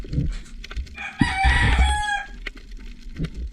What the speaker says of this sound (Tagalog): Hamol kang manok, di kinahinto.